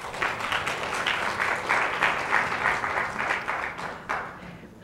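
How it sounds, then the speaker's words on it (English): An audience at a League of Women Voters forum claps steadily, a dense round of applause from many hands that swells slightly and then tapers. "We will move along faster if you all will please not clap."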